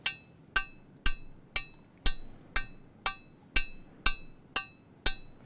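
Percussive physical-model synth blocks from a Resonestor module: eleven sharp, evenly spaced woody-glassy hits, each with a quick bright attack and short ringing decay, heard alone and close.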